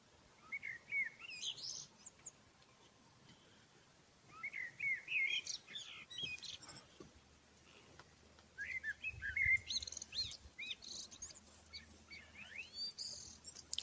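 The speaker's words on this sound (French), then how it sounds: "On entend les oiseaux encore." Small birds chirp and whistle at dusk in calm countryside, quiet and somewhat distant, in short bursts of tweeting separated by near-silent pauses, with no one speaking.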